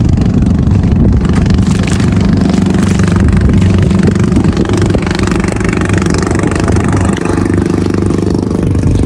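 A steady, loud boat engine drones throughout at sea, a continuous low rumble with clattering texture, running close by.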